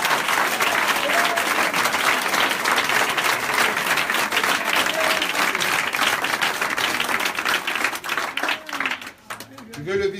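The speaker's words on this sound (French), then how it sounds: "Est-ce qu'on peut acclamer le Seigneur?" Church congregation applauding and cheering loudly to acclaim the Lord, a sustained wall of clapping and voices that fades toward the end as other sounds come in.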